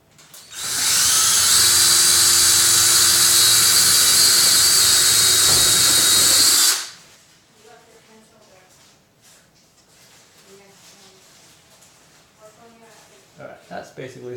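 A handheld power drill drives screws into a ceiling fan support outlet box, one loud sustained whir lasting several seconds, then stopping and leaving quiet handling noises and faint movement.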